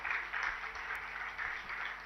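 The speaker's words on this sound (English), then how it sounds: "Can we have a louder round of applause" An audience at an inauguration event applauds, a faint, continuous patter of many hands clapping that stays even throughout without voices.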